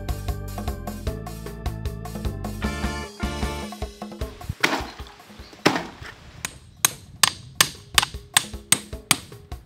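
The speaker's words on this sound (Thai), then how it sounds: "ได้เวลาต้องออกแรงใช้กำลังฟาดด้ามค้อนลงไปสะท้อนมีดอีโต้เพื่อให้ความคมแทรกจมแยกหัวปลาออกจากกัน" A hammer pounds a cleaver to split a large grouper's head in a restaurant: a run of loud, sharp, evenly spaced knocks, starting faintly under fading music and then ringing out alone.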